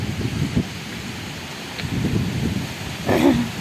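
Gusty storm wind sweeps through a Khulna village, a steady rushing roar with rustling and brief louder surges, with no voices.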